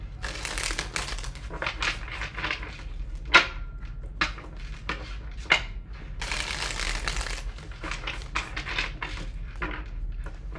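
Tarot cards are shuffled by hand in repeated riffling bursts with sharp slaps between them, close and steady.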